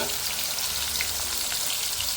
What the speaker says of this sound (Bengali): তেলটা আমার গরম হয়ে গেছে, মাছগুলোকে আমি ভেজে নেবো।